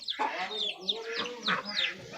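Hens cluck in quick bursts close by, several birds overlapping with sharp high calls, and a voice murmurs faintly underneath.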